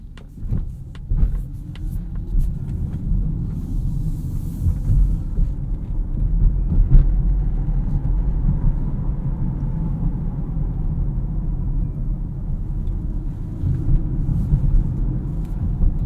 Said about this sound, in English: really, really like the one pedal driving in this Polestar 2.